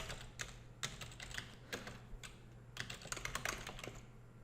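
A computer keyboard clatters as someone types code for an Unreal Engine 4 C++ snake game. Quick, irregular keystrokes come in close, crisp clusters over a low background hum.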